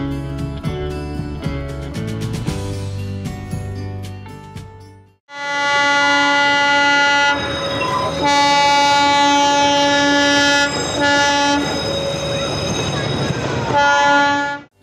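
A Darjeeling toy train, passenger service 52541 from New Jalpaiguri, stands at Sukna station: a long, loud multi-tone horn sounds first, then after a short gap a second sustained horn blast blares close by over rumbling engine noise.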